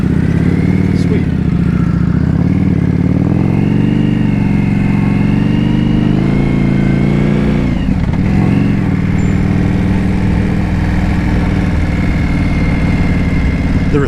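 Steady mid-pitched engine drone of a 2025 Indian Scout Bobber motorcycle while riding, loud and continuous with gentle shifts in pitch as it eases off and picks back up, wind noise over it.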